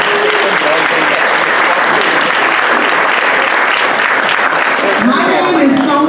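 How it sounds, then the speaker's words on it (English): Loud, sustained applause from a community awards audience, a thick, even roar of clapping that fills the whole stretch, with voices briefly rising near the end. "give yourselves another round of applause"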